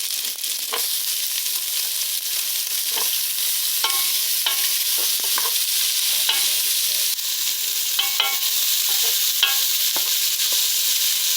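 Chopped onion fries in rendered pork belly fat in a pan with leftover grilled pork, giving a steady loud sizzle. Occasional scraping stirs and clinks break through the sizzle, and no one speaks.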